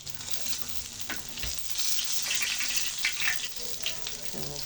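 Tilapia frying in oil in a pan, a steady crackling sizzle with brief pops and stirring scrapes, close and moderately loud, with faint voices in the background.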